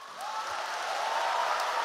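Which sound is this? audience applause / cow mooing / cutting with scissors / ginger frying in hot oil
audience applause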